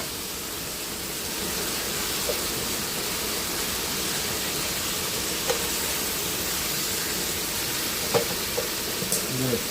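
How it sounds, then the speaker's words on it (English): Paprika, cumin, chili powder, black pepper, salt and oregano with stuffed bell pepper filling sizzle in a pan under steady, dense frying hiss, with faint occasional spatula scrapes. "So we're going to mix all this up, get it going."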